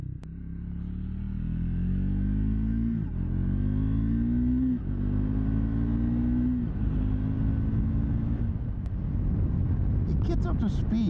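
A 2024 Triumph Speed 400 motorcycle accelerating through the gears, engine note climbing in pitch in several rising sweeps with brief dips at each shift, loud and close, with wind rush building at the end.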